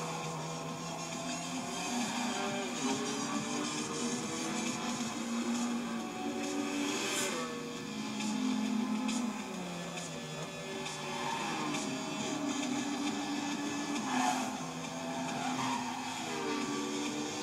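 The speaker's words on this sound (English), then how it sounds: "See, there was a car spun out right there." Race cars in the Gran Turismo 5 video game roar continuously through a seasonal event, with engine whine rising and falling, tire squeal and skidding as a car spins out.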